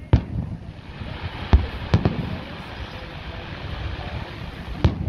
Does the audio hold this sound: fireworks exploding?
yes